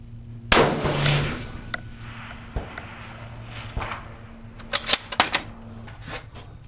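A Ruger Precision Rifle fires at long-range steel targets: one sharp, loud report near the start, followed by quieter mechanical clicks and handling sounds.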